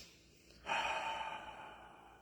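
A single audible breath during a guided meditation: a soft, airy exhale rises suddenly after a quiet moment and fades slowly, close and alone with no talking.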